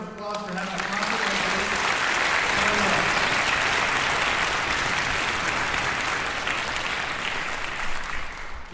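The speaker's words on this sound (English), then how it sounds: "Have a big round of applause for having a concert." Concert audience at a joint orchestra concert of the Hochstein Philharmonia and Sinfonia breaking into sustained applause, a broad loud roar of many hands swelling and holding, with a brief voice near the start.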